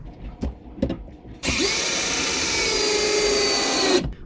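A cordless power drill drives screws into a wooden outdoor chair, a few soft knocks first, then one loud, steady whirring run of about two and a half seconds that stops abruptly.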